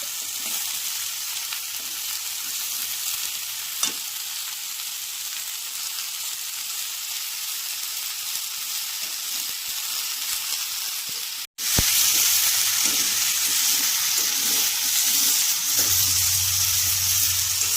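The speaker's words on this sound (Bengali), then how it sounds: "একটু ভাজা ভাজা করে নিচ্ছি ফুলকপিগুলো।" Cauliflower, potato and carrot fry in an open pan, giving a steady, close sizzle that carries on throughout with a brief break near the middle and light stirring sounds over it.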